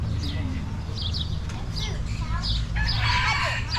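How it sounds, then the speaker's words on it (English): A rooster crows and clucks amid other chickens and goats at a fruit stand, the calls repeating over a busy rumble of background noise and nearby voices. "And a rooster."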